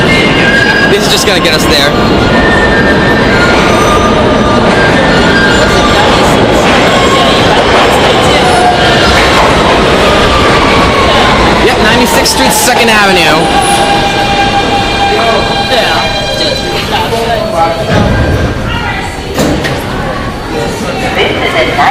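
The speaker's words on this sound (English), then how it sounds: "Here's the Q train." A Kawasaki R160B Q subway train rides toward 96th Street–2nd Avenue in New York, its loud rumble and wheel squeal filling the car while passengers talk over the noise.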